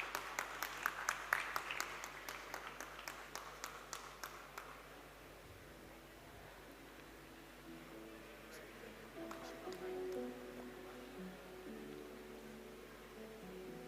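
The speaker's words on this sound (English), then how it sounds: "A round of applause, folks." An audience at a university alumni meet claps for a newly announced vice president, with a burst of sharp, distinct claps over the first few seconds that thins out into a low room murmur.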